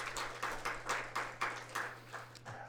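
A church congregation gives a round of applause at a Sunday worship service in Korea, a steady patter of many hands clapping at moderate loudness, with a faint hum underneath and no talking.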